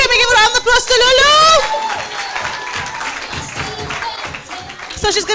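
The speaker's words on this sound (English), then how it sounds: "Can we give a round of applause to Lulu?" Audience at an agricultural career fair in Paarl breaks into a round of applause and cheering for Lulu, a dense, steady wash of clapping that follows a brief voice and continues for several seconds.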